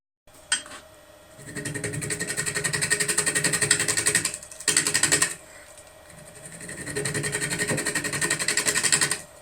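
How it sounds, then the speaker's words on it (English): Bowl gouge making pull cuts across the bottom of a burl bowl spinning on a wood lathe: close, loud rhythmic rattling cutting sound in two long passes with a short break between, over a steady motor hum. "Doing some pull cuts to try and true up the bottom."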